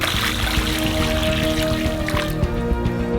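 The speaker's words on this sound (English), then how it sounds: "Pour 4 liters of water on top" Four liters of water pour steadily onto 30 kilograms of sugar in a pan in a continuous gushing splash, close and fairly loud throughout.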